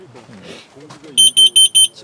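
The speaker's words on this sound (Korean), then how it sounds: "1분도 안 돼서 경보음이 울리고 400ppm을 넘어섭니다" A portable carbon monoxide alarm inside a small one- or two-person tent with a burning brazier sounds four loud, sharp, evenly spaced beeps after a stretch of speech.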